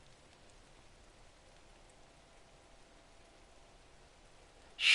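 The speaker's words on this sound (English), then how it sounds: "Just means I'm going to be sat out in the rain for a bit." Steady rain falls in theHunter: Call of the Wild, a soft, even hiss that holds quietly throughout, with a brief louder burst right at the end.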